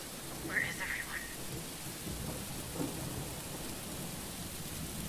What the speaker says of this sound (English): Did you notice that on these alien planets it's continuously raining?